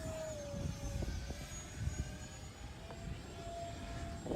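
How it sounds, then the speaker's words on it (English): An Arrows T-33 RC jet powered by 11-blade 50mm electric ducted fans flies at a distance, a faint, thin whine shifting in pitch over soft wind noise. "They're only 11 blade EDFs, but they do sound good."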